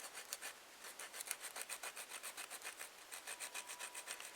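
Rhythmic rasping strokes while grinding down wooden parts for a small buck saw, a quick steady back-and-forth scrape repeating several times per second, close and fairly quiet, with no talking.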